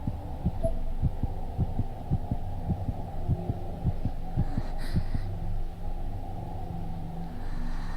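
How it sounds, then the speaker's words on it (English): A rhythmic heartbeat pulses from the horror game Corpse Party Blood Drive, thumping steadily through the first several seconds over a constant low drone, then fading out as the hum carries on alone. "I can hear the heartbeat of the game."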